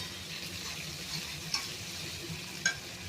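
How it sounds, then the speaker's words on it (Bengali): Sliced onions frying and being stirred in hot oil in a pan for a mutton curry give a steady close sizzle with a couple of light scraping clicks and no talk. "আলু ভাজা হয়ে গেছে আমার, এবার আমি পেঁয়াজ ছাড়ছি।"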